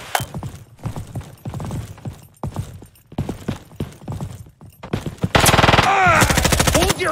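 Rapid gunfire rings out in the shooter game Frontlines, first as clipped single and short bursts, then as a loud sustained automatic volley near the end, close and sharp.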